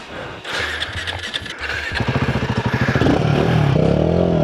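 An off-road motorcycle engine in Morocco rasps and clatters, then revs in rising pulses and holds a strained, loud drone up close. No one speaks.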